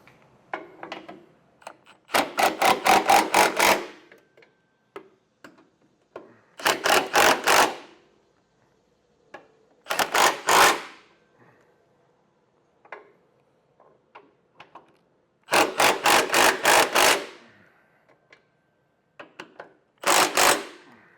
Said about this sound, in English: Now we'll come back through and snug down all of our hardware.